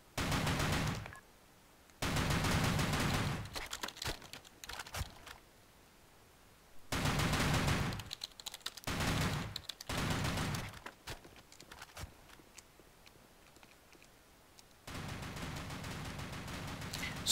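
Automatic fire from an ACR rifle in the video game Blackshot: several sustained bursts of rapid gunfire separated by short pauses, loud and close.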